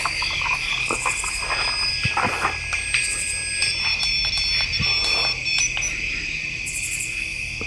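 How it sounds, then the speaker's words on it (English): Steady high-pitched electronic tones hum continuously over a noisy background in a cemetery, with faint scattered clicks and chirps; no voices are heard. "It's beeping. Do you hear that?"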